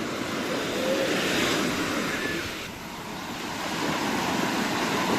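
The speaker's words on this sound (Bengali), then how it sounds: "পানির গর্জন শোনা যাচ্ছে" Ocean surf at Batu Ferringhi beach in Penang, Malaysia, rolls in as a continuous broad roar, swelling and easing slightly, mixed with wind buffeting the microphone.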